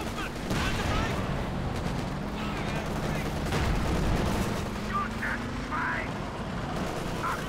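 Dense battlefield gunfire and heavy artillery blasts from the Company of Heroes 2 strategy game, including a Sturmtiger shot, rumble continuously beneath a commentator's steady talk, with scattered sharp reports throughout.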